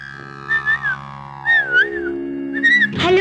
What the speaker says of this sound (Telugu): మీరు ఈల బాగా వేస్తున్నారు